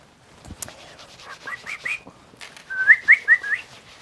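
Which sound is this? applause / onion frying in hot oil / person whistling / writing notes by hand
person whistling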